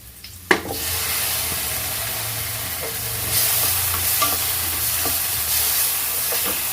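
Two chopped tomatoes for sambar sizzle loudly in a hot pan after a sharp drop-in splash, a steady crackling hiss broken by occasional clinks of stirring.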